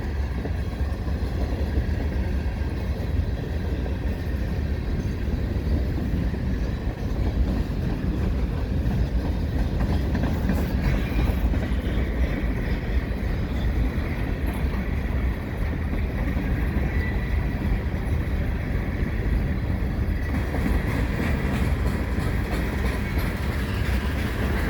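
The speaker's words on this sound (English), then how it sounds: "It's not often that I get so many tank cars on a CN freight like this." A long CN freight train hauled by back-to-back SD70M-2 locomotives rolls steadily past, its tank cars, hoppers and box cars giving a continuous low rumble with rhythmic wheel clatter and some wind noise on the microphone.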